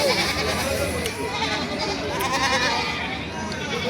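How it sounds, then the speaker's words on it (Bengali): Goats bleating amid the steady hubbub of a crowded livestock market in Ranisankail, Thakurgaon, with continuous background chatter and calls layered over the animals throughout. "দর্শক দেখেন কত সুন্দর সুন্দর ছাগল আপনার দেখালাম"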